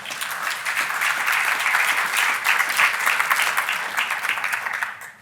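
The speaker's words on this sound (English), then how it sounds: "You can clap for that too." An audience at a youth volunteer service celebration bursts into sustained applause, dense overlapping clapping from a crowd that holds steady for several seconds before tapering off at the end.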